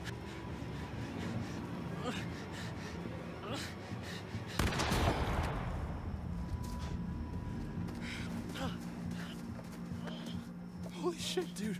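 A gunshot in the horror game The Quarry cracks out once, loud and broad, in the middle of tense shouting, with low ambient rumble and further voices around it.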